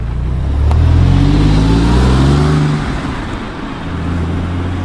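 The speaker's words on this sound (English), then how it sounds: "in the normal 911s, yes, it sounds sporty, but for my taste," A Porsche 911 of the 997 generation revs its engine, a loud, throaty mid-range roar that swells over the first few seconds, eases off, then rises again toward the end, with no talking.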